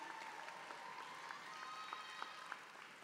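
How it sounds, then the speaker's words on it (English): Steady audience applause fills a hall at a university graduation ceremony, many hands clapping at an even level with a few sharper claps standing out, and no talking over it. "give them a round of applause"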